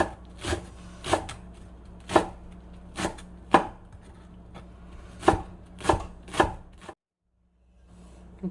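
A knife chops green onions for perilla leaf kimchi on a cutting board in steady, sharp thuds, about a dozen strokes close up, then stops abruptly.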